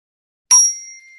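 A single sharp strike of a high-pitched bell, its bright ringing tone decaying over about half a second and heard alone in silence.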